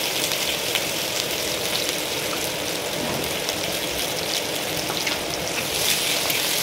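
Chopped onions fry in hot oil for a chicken trimmings recipe, a steady close sizzle and crackle that keeps going with no speech.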